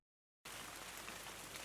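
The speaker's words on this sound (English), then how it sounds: "classic rain sounds, good luck." Rain starts abruptly after a brief silence and keeps up a dense, even hiss of drops hitting a surface, steady and close.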